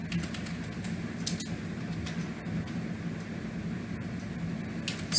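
Scattered keystrokes on a computer keyboard as C++ code is typed, the clicks fairly close and irregular over a steady low mechanical hum like a fan or air conditioner, with no talking.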